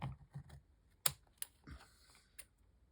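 Scissors trimming paper, heard as a few sharp, isolated snipping clicks spaced irregularly with quiet gaps between, close and fairly faint.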